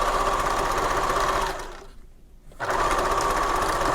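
A sewing machine runs steadily while back stitching at the start of a final seam on a fabric marble necklace, its motor whirring continuously, then briefly pausing before resuming at the same close, even pace.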